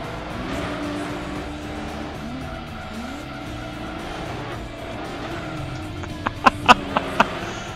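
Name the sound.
TVR V12 car engine roaring in video game Gran Turismo 2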